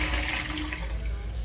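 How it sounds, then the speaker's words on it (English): A toilet flushes in a Paris hostel restroom, a loud, close rush of water that keeps churning throughout. "Give it a little flush first."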